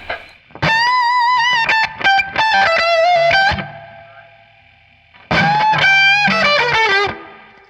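Electric guitar, an original 1958 Gibson Les Paul, played through a blackface Fender Deluxe Reverb tube amp, two bursts of melodic bends and sustained notes with warm overdrive and reverb tails, loud and close.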